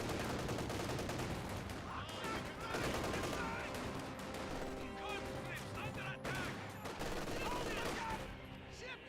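Dense, continuous gunfire from German Grenadiers and Riflemen squads trading shots in the World War II strategy game Company of Heroes 2, with overlapping bursts and crackling volleys layered over a busy battle mix.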